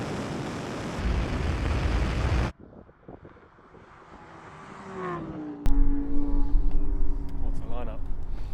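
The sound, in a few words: Lamborghini Huracan drag racing a McLaren Artura and Porsche 911 Turbo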